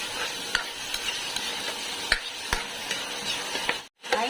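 Onion and tomato sautéing in a pan for spaghetti, a steady close sizzle with repeated scraping stir strokes and light clinks, broken by a brief dropout near the end.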